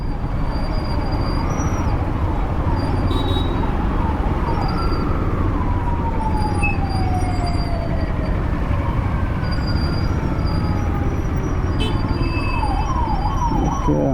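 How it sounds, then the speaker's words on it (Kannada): An ambulance siren wails repeatedly on a road, rising and falling as it passes, over loud continuous traffic and engine rumble from a moving vehicle. "ಆಂಬ್ಯುಲೆನ್ಸ್ ಬರ್ತಾ ಇದೆ, ಸೈಡ್ ಬಿಡೋಣ."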